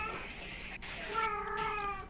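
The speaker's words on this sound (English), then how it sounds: "that cat is pissed off" Angry cat meowing in the background: a drawn-out, wavering yowl that rises and then falls, faint and distant against a low ambient hum.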